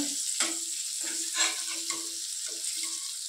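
Fish pieces fry in a pan with very little oil, a bright hissing sizzle joined by brief low tonal bursts as the pieces settle and are turned, with no voices.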